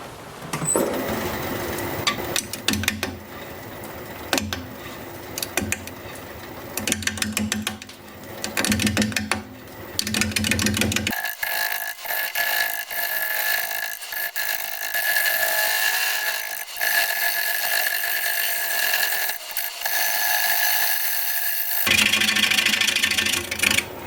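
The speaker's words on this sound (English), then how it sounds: "We're going to be turning at 400 RPM, 5/8 inch bowl gouge, mask and face shield on." A wood lathe spinning a maple bowl blank at 400 RPM while a 5/8 inch bowl gouge cuts it, with a steady motor hum and loud, rhythmic scraping and shaving, the tone shifting to a hissy, higher cut midway.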